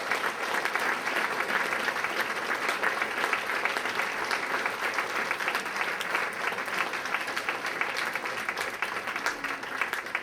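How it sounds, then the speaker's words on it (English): Audience at a ceremony with remarks from a former fire chief breaks into sustained applause, a dense, even wash of many hands clapping that carries at steady loudness throughout. "Let's give him a big round of applause."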